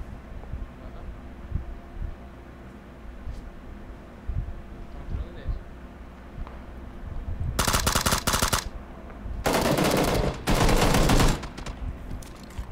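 Gunfire in the video game PUBG: quiet background at first, then several loud bursts of automatic fire in the second half, close and harsh, separated by short pauses.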